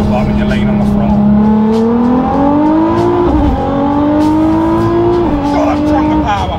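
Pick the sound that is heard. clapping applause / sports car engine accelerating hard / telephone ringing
sports car engine accelerating hard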